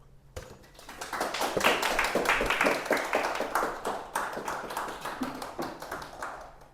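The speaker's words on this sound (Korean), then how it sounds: "배종환 선생님을 박수로 맞이해 주시기를 바랍니다" An audience claps steadily to welcome a lecturer onto the stage at a literature talk, a dense patter of many hands that swells quickly and then eases off without fading out.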